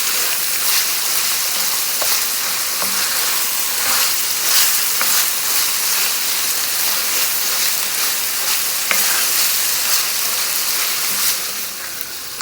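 Minced keema stir-fried in a hot pan gives a steady, dense sizzle with faint scraping stirs running throughout, close and loud with no talking.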